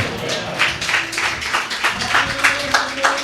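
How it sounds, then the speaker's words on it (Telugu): A congregation at a Friday worship service of Hosanna Fellowship in Doha, Qatar, clapping their hands together in a fast, steady rhythm, the many claps blending into a close, even patter. "చప్పట్లు కొట్టండి ఒకసారి"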